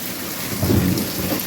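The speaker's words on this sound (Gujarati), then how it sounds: "ગાજે છે એવું" Thunder rumbles low and heavy beneath steady pouring rain during a hailstorm, swelling briefly in the middle of the short stretch.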